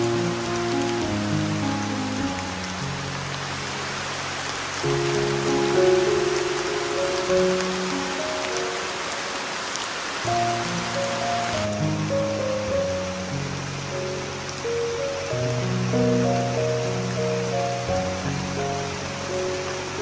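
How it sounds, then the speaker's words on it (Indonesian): Steady rain falls on an outdoor shelter during a cooking session, a continuous close hiss with an even texture that runs throughout under background music. "hujan malah turun"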